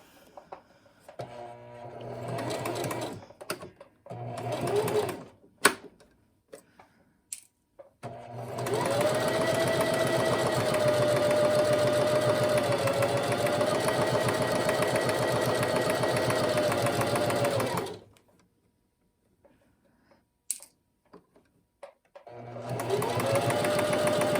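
A sewing machine stitches a shirt placket in short bursts, then runs in one long steady whirring stretch, stops, and starts again, close and clear with no talk.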